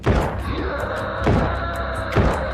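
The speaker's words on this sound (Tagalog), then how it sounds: "biglang may malakas na kumalabog sa bubong" A sudden loud thud on a house roof in a rural village at night, heavy impacts recurring roughly every second amid dense rumbling noise, with a voice faintly underneath.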